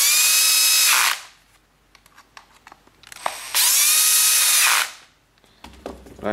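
A handheld power driver runs on its lowest setting while fixing a rattling Quest brake controller, giving two sustained close whirring bursts of about a second each with a quiet pause between them.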